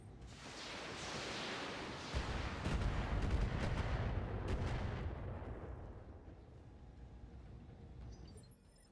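Mech weapons open fire in the BattleTech game Roguetech: a rolling barrage of booming artillery-like shots and crackling impacts that swells to a heavy peak, then trails off into a fading rumble.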